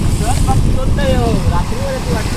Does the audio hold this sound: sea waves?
yes